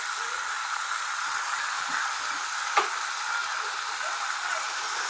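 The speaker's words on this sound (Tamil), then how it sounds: "மிளகாய் பொரிஞ்சோடனே தக்காளியை போட்டுட்டேன். தக்காளியை போட்டு நல்லா வதக்கணும்." Tomatoes sautéing with fried chillies in hot oil make a constant even hiss and sizzle, close and steady, with one brief clink partway through.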